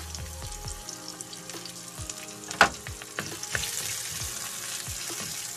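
Garlic and onion frying in oil, a soft continuous sizzle under light clinks and one sharper knock of a utensil against the pan, fairly quiet and close, with no talking.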